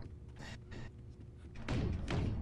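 A door swings open in the Psychonauts video game, giving a soft thud and slide that rises into a louder rumble at the end, with low background ambience throughout.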